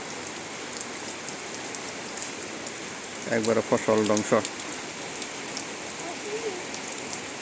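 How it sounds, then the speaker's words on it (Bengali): Rain falls steadily over farm fields with a soft, even patter, while someone speaks briefly partway through. "বৃষ্টিতে মনে হয় সব শেষ হয়ে যাবো গা"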